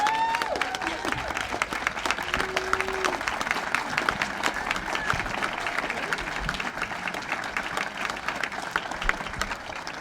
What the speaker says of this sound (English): give a round of applause for